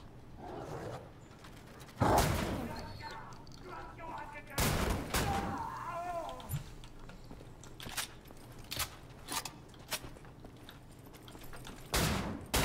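Gunfire in the video game Wolfenstein: The New Order, including shotgun blasts: loud, sharp shots come in bursts among clanking mechanical noises, with someone speaking over the action.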